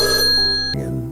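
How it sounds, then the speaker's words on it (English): A telephone bell rings loudly and close by in a short burst with a bright metallic ring that cuts off and decays, leaving a low humming tail. "and the phone would ring."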